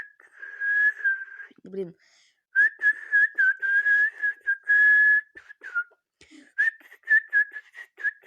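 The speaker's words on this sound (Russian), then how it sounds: "ну, короче, как-то так вы научитесь свистеть" A person whistles with the lips alone, no fingers, in sustained clear mid-pitched tones and short melodic runs, broken by a brief spoken word and a pause.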